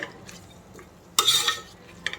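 Slit green chilies hitting hot oil in a mutton biryani pot, a sudden loud sizzle flaring up midway and fading, with a brief stirring scrape near the end against quiet kitchen background.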